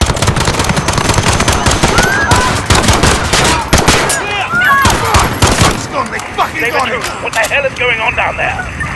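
Heavy automatic gunfire crackles during a terrorist attack in a video game, rapid overlapping bursts that are loud and close at first and then thin out, with shouting voices throughout.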